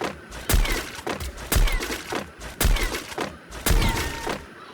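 Four heavy sniper rifle shots boom out in a video game match, evenly spaced about a second apart, each a sharp loud crack with a deep thump and a short ringing tail.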